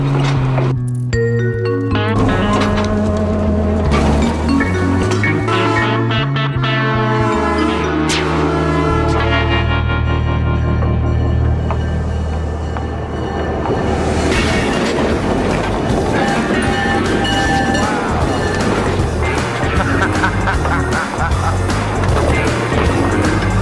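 A train rumbles along the track with clattering wheels and mechanical noise, loud and close, while voices and louder tonal sounds mix in over it.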